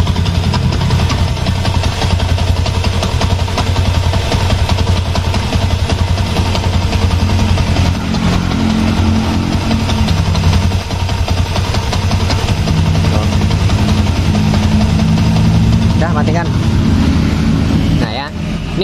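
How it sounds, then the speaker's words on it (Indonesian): Yamaha Jupiter MX motorcycle engine with a rough, rattling mechanical noise from a loose one-way starter clutch, running steadily and loud close up while people talk over it. "Kalau dilepas koplingnya nih berisik"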